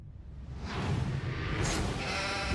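Sheep in the horror-comedy film Black Sheep bleat loudly and close by, several overlapping wavering cries building over a couple of seconds amid a busy film soundtrack.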